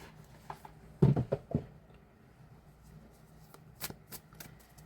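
Tarot cards are shuffled in a quiet room: a cluster of crisp riffling bursts, then softer sporadic card slaps and flicks trailing off.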